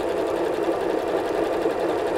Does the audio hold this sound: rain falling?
no